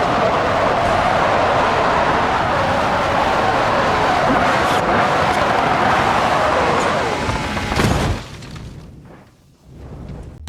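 A Ferrari SF90 in the BeamNG Drive driving simulator accelerates toward 600 mph, a loud, continuous roar and rush holding steady for about eight seconds, then breaking into a harsh crash-like burst and fading into broken, sputtering bursts with near silence.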